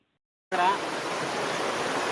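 Rainwater from heavy rain flows in a stream through a lake toward the Nagalamadake dam, heard as a steady loud rushing roar that starts abruptly after silence and continues evenly, with no talk.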